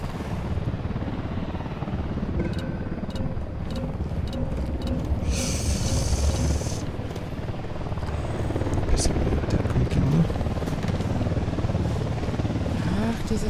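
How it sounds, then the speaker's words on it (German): A helicopter in the video game Ghost Recon Wildlands roars with a steady, loud rotor drone throughout, joined by scattered gunfire-like cracks and bursts of game noise. "Ach, dieser dämliche Helikopter."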